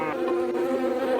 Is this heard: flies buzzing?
yes